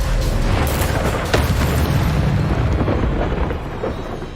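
A Bombarda spell explodes in the Hogwarts Legacy video game with a loud, heavy boom. The deep rumbling blast fills the whole stretch and tails off slowly toward the end.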